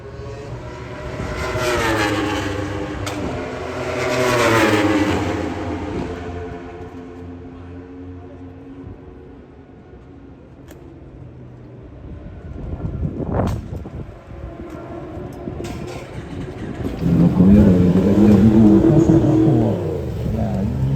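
Racing motorcycles at the Bol d'Or endurance race sweep past one after another, loud engine roars rising and fading in several waves, with a sharp close pass midway and a sustained rumble toward the end.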